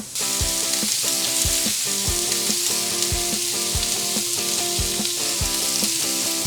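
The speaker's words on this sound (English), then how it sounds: "I'm gonna mix that around, let that celery get hot" Celery sizzling with onions and carrots in a Vulcan VG30 commercial braising pan: a steady loud frying hiss with regular soft thumps from stirring and a faint steady equipment hum underneath.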